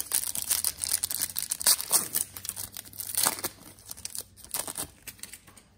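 A 2006-07 SP Authentic hockey card pack wrapper is crinkled and torn open up close, a steady rustling crackle with sharp tearing bursts, no talking.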